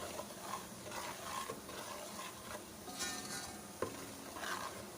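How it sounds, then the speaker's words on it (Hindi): Masala spices frying for beef kofta curry in a pan, a steady sizzle with repeated scraping strokes of a spoon stirring, close and moderately quiet, with no talking. "और मसाले को हम अच्छी तरह से भून लेंगे।"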